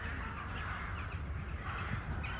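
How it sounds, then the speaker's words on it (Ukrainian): Several crows caw over a steady, noisy winter street background, their harsh calls blending into the constant hiss and rumble. "Ворони."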